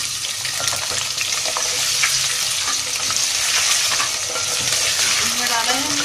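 Thin potato slices fry in a hot pan while a spoon stirs them, producing a loud, steady sizzle broken by scraping and clinking of the utensil, with no talk.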